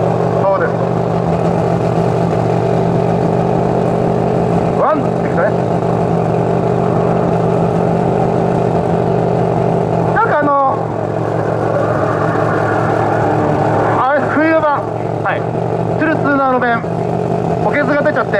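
Drift cars at a Team Toyo Tires demo run at Motorsport Japan 2022, their engines droning steadily with sharp bursts of revving and tire squeal. An announcer talks over the sound throughout.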